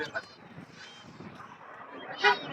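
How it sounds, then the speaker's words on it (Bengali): Geese and ducks honk and cackle nearby over a busy market background hum, with pigeons and chickens also for sale there, and a louder honk near the end. "বাজার ভরা শুধু পাখি কবুতর মুরগি হাঁস"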